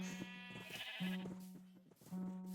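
Sheep in Minecraft give repeated low, steady bleats at close range, several overlapping calls over a soft game background, with no talking.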